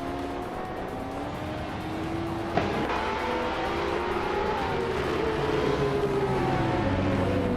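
A 2011 Lamborghini Aventador racing at Autodromo Lago Maggiore in a video game, its engine a sustained droning whine that shifts in pitch, layered with other cars and a single sharp click early on.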